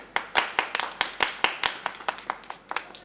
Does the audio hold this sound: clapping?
yes